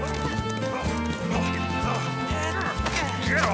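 Horses' hooves clip-clop in a steady rhythm under a loud orchestral score, with neighing and other animal sounds mixed in and a voice heard briefly.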